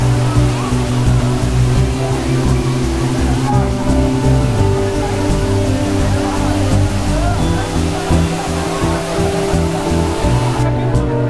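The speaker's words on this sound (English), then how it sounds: "Finally, we reached the waterfalls." Dudhsagar waterfall pours in a constant, dense roar, loud and unbroken throughout with no clear voices over it.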